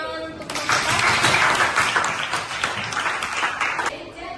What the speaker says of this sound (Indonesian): Dengan tepuk tangan untuk Bapak.